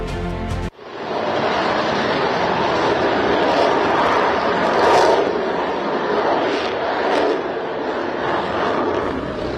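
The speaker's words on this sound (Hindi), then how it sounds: "बुधवार को हरियाणा से राफेल की इस उड़ान ने दुनिया को ऐसा ही एक पैगाम दिया है।" A Rafale fighter jet flying from Ambala, Haryana, produces a broad, continuous roar that starts abruptly and swells slightly midway, heard alone without speech.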